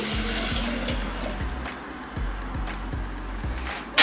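Seven hundred millilitres of water pour into the jug of a Ninja HB150UK food blender and soup maker, a steady splashing gush under a faint rhythmic mechanical ticking, ending with a louder bump.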